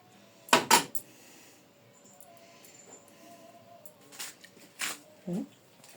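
Spoon scraping and clinking against a pot and plate while serving cooked rice at home, a few sharp metallic taps near the start, then quieter scoops and a couple more clinks toward the end.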